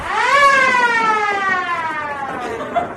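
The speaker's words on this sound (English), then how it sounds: "There is the siren once again." A loud siren wails at a baseball game, holding a long mechanical tone that slowly sinks in pitch as it winds down.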